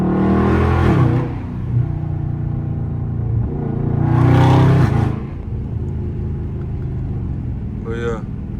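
A 550 hp Dodge Scat Pack drives at night and downshifts. The engine rumbles low and steady, swelling into two rev surges followed by a brief high chirp near the end, loud and close from inside the cabin.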